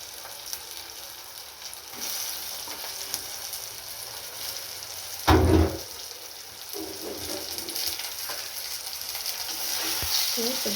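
Onions frying and being stirred in a pan for a home-cooked lunch, a steady soft sizzle with scraping stirs and one louder clatter midway, fairly quiet and with no talking.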